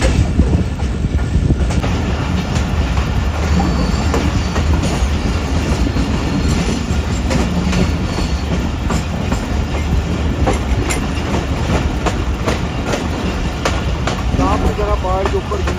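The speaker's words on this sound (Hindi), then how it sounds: "पहाड़ के ऊपर घूमती हुई हमारी ट्रेन" The Bolan Mail passenger train runs over the tracks on a mountain route, a loud, continuous rumble with rhythmic clickety-clack of the wheels heard from on board, with a voice speaking over it.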